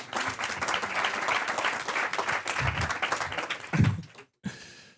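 A room full of people claps loudly and continuously, then the applause cuts off abruptly and fades into quiet.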